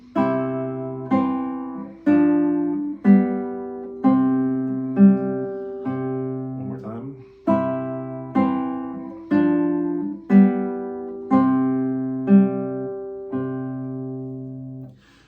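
Classical guitar playing the bass and upper voices of a Fernando Sor study together, about a dozen evenly spaced plucked chords ringing out close and clear, with a brief spoken phrase midway.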